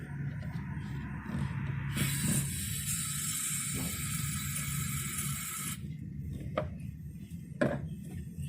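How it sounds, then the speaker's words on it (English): Brake cleaner sprayed into the breather hose of an Audi Q7 gives a steady, close hiss lasting about four seconds, framed by faint mechanical clicks and rattles before and after. "I just took the breather hose off, added brake cleaner,"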